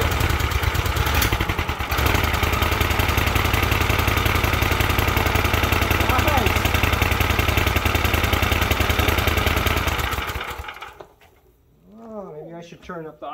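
Small engine on a Manco Dingo go-kart runs at a steady, loud idle for about ten seconds before dying away, followed by a brief voice.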